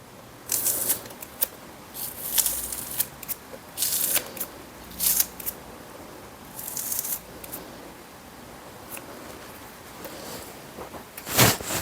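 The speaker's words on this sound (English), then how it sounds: "I have 2 green onions and I'm just going to cut them if I can get my scissors to work." Kitchen scissors snipping two green onions, a series of short, crisp close-up cuts spaced irregularly over quiet background, ending with one louder snip.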